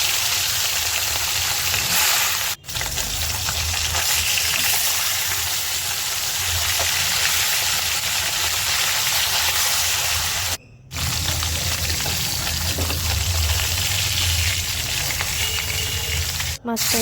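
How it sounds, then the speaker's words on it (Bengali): Pieces of rohu fish fry in hot oil with a steady, loud, continuous sizzle that barely changes, broken only by a few very short gaps. "মাছটাকে সুন্দর করে তেলে ভেজে নেব।"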